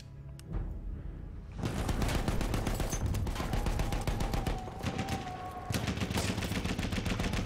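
Dense, loud gunfire in the video game Battlefield 1, a near-continuous rattle of rapid shots and bursts that runs almost without a break and stays close and dominant.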